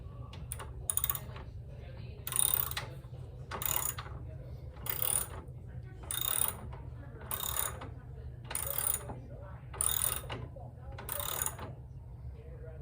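A Landice L7 treadmill's walk belt being tightened at its adjustment bolt, a series of about ten evenly spaced ratcheting clicks over a low running motor hum.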